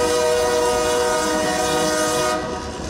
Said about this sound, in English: It will be train noise because a locomotive makes noise as it travels down the tracks